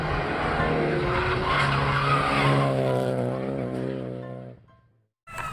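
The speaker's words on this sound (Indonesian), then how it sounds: "lihat ini ada mobil balap" A toy race car's built-in sound effects play loud tire screeches and skidding with a racing engine whine, steady for about four seconds before fading to silence, then a brief burst returns.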